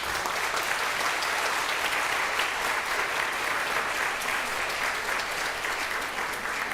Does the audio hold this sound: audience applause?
yes